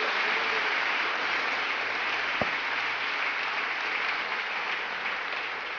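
A church congregation breaks into sustained applause that fills the room evenly and steadily. A single sharp knock stands out midway, and there is no speech.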